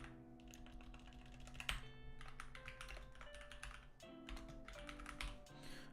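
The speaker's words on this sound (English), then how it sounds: "I'm just going to type it out." Typing on a computer keyboard during a live stream, a steady run of light key taps at close range over soft background music.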